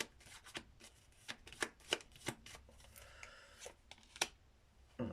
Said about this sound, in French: je vais recouvrir le valet de pique.